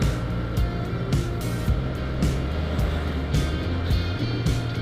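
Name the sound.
Honda Scoopy scooter engine straining up a hill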